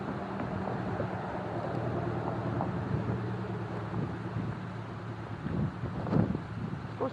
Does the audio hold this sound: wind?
yes